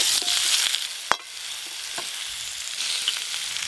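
Fried pointed gourd and potato in a pan, a soft steady sizzle broken by one sharp utensil knock and a few light scrapes, heard close with no speech.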